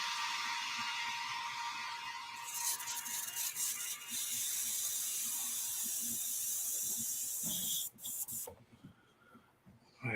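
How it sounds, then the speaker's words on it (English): An airbrush being cleaned out sprays a steady, close, airy hiss that runs for several seconds, turns brighter and harsher partway through, then cuts off to quiet with a few light clicks. "Clean the airbrush out."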